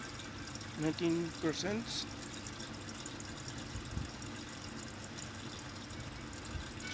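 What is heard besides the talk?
water being added to Urban Cultivator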